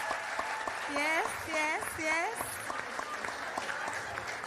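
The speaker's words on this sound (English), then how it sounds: "Can you please give them a big round of applause?" Audience applause at a live panel dialogue event, steady clapping throughout with a voice and some whoops or cheers mixed in over it.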